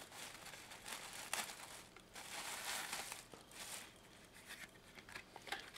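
Packaging for an official Japanese Pikachu plush toy rustles and crinkles softly in bursts of plastic crackling and tearing, close by and fairly quiet.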